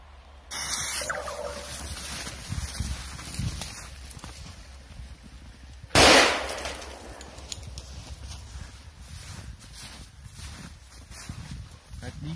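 A firecracker explodes inside a bottle outdoors in frosty snow, one sharp loud bang midway with a short decaying rumble, surrounded by quieter handling noise.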